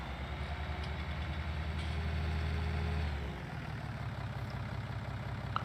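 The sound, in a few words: tractor engine idling in a farming video game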